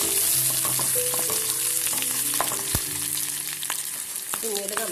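Ginger and green chilli frying and being stirred in a pan, a steady close sizzle with scraping stir clicks and knocks throughout, no voices.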